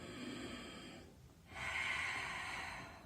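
A person takes a deep inhalation during a Pilates chair exercise with weights. The breath is a soft, airy rush that swells after a brief pause and holds steady, fairly close, with no talking.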